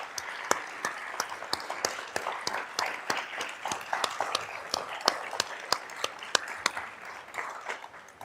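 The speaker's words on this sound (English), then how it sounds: "Let's give Mary a great round of applause." Sparse, scattered clapping from a small audience at a NACD Utah Chapter event honoring Mary C. Daly, individual sharp claps standing out over a soft, steady wash, moderately close and fairly quiet.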